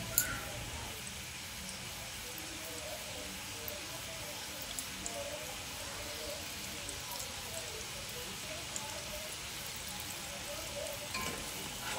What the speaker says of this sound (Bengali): হালকা গরম অবস্থায় খাজাগুলোকে তেলে দিয়ে দিতে হবে।